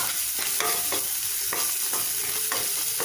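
Onion masala with Kashmiri chilli powder sautéing for kaalan gravy, a loud, close sizzle broken by rhythmic spatula strokes roughly every half second as the mixture is stirred.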